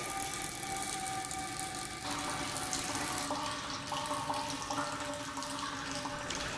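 Water runs steadily from the outlet of a constant head permeability test rig in a soil mechanics lab into a catcher, a continuous even rushing splash with no pauses and no speech.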